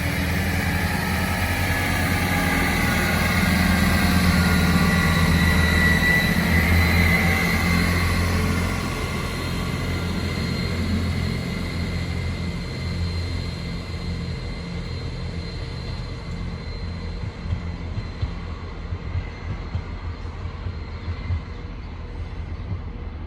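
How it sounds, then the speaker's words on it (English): A Transport for Wales passenger train pulls out of Hereford station on a Cardiff Central to Holyhead service, its engine a steady low rumble that is loudest early and slowly fades as it draws away, with no talk. "Departing out now is the 1029 Transport for Wales service from Holyhead from Cardiff Central"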